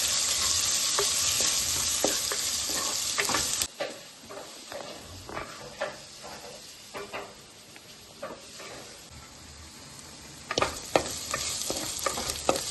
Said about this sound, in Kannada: ಇವಾಗ ನೀರುಳ್ಳಿ ಆ್ಯಡ್ ಮಾಡ್ತಾ ಇದ್ದೀನಿ.